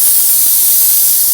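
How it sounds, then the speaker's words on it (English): A loud, continuous close-up hiss of dry micro steam jetting from a Laura Star ironing board, steady and unbroken with no voices. "It produces amazing steam."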